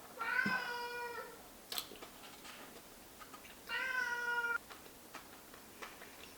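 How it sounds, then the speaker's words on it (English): A cat meows twice, a drawn-out cry followed by a pause and a second similar meow, fairly close in a quiet room with small clicks between. "Oliver's meow is not as cute as Butters."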